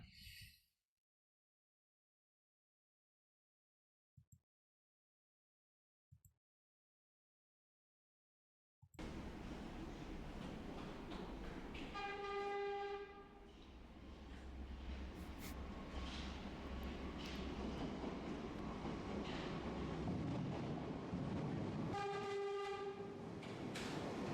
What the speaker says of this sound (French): Faut que j'écoute un klaxon de métro pour l'inspiration.